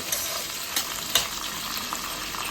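Seema chinthakaya (cluster beans) frying in hot oil for a curry: a steady close sizzle with light crackles and a few sharper pops, no talk.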